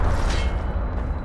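An Incendio fire spell is cast in the video game Hogwarts Legacy, a brief loud whooshing burst of flame with a rumbling low roar that fades quickly.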